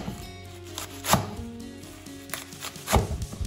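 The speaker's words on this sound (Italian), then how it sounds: "Prima lo tagliamo finemente." Wild garlic chopped finely with a knife on a board, heard as a few soft, close cutting taps with two stronger thuds spaced apart, against a quiet kitchen background.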